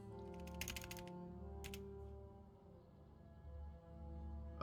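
Typing on a computer keyboard comes as a few quick clusters of light clicking keystrokes over a steady, humming music bed.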